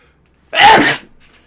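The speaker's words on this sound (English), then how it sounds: "I'm sorry, I'm going to sneeze." A single loud sneeze bursts out after a quiet moment, close and sharp, then fades into near silence.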